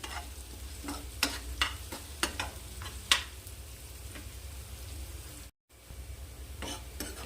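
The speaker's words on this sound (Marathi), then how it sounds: "मी बघा अशी छान परतून घ्यायचं झालं आता कलर आला आपल्या कांद्याला पण आणि जिरं धनेला पण" Onion frying with cumin and coriander seeds in a pan, a soft steady sizzle with scattered sharp clicks of a spoon stirring, no talking.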